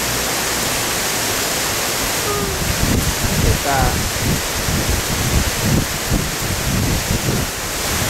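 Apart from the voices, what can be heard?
heavy rain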